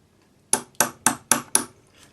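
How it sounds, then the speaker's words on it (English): A chasing hammer strikes a metal punch five times in a quick, even rhythm to set a bezel around a cabochon stone on a ring, each strike a crisp, close metallic tap that rings briefly, with no talk. "I'm using a chasing hammer"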